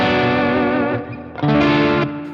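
An electric guitar played through a Joyo D-Seed II delay pedal with reverb rings out in sustained, heavily effected chords, fades briefly, then hits a second strong chord that trails off with echoing decay.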